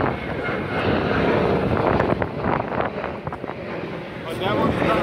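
A repaired 2011 BMW F10 engine runs with a loud, steady, close drone, rough with wind buffeting across the microphone and holding for the whole stretch.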